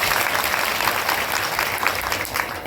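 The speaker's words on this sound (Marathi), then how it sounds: "एकदा फक्त महिला मंडळ टाळी वाजवा" A women's group at a kirtan gathering claps together in a dense, loud burst of applause that runs steadily through the moment.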